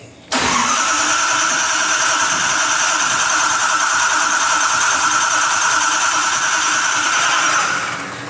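A hot rod engine cranks and fires, then settles into a loud, steady, close idle that runs unbroken before easing off at the end.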